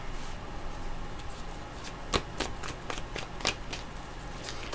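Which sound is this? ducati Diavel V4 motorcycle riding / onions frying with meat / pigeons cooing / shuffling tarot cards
shuffling tarot cards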